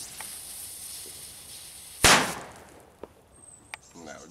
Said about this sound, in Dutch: Kijk eens aan, hier zijn de kanonslagen.